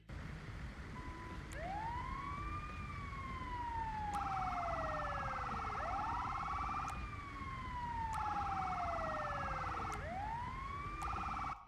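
A GTA ambulance siren wails in long rising and falling sweeps, alternating with a rapid electronic yelp, steady and continuous.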